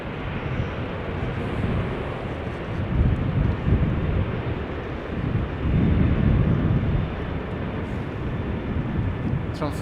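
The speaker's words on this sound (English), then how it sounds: "That is wind." Strong gusty wind buffeting at Amsterdam Schiphol Airport, a loud low roar that swells and eases in waves, with a low rumble that may be aircraft noise.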